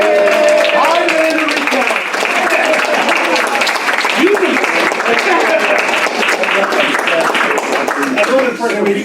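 A luncheon audience at an old time radio club gathering applauds an award recipient, a loud, continuous crowd applause filling the whole stretch, with voices and cheers rising over the clapping.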